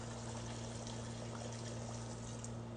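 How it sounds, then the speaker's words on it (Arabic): Water pours steadily into a pot of chicken stewing with tomatoes, a soft continuous splashing trickle heard alone throughout, with a constant low hum beneath it. "نخلي الدجاج يتسبك 5 دقايق ونضيف الماء"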